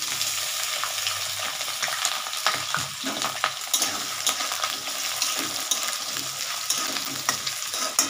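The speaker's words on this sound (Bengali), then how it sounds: "এইবার আমি আলু পেঁয়াজটা আমি একসাথে দিয়ে দিচ্ছি" Potato and onion with garlic fry in oil in a pan, a lively sizzle broken by repeated scraping stirs of a spatula, close and steady, with no talking.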